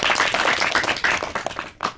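A live audience claps and applauds after a story on a Pakistani children's radio-on-TV show, a dense burst of many hands that is loud at first and then thins out near the end.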